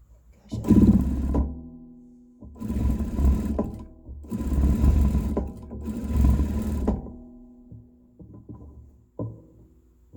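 A sewing machine stitches along a folded trouser hem in four loud, close bursts of steady motor whir, separated by short pauses, with faint handling sounds toward the end.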